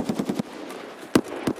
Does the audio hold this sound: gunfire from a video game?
yes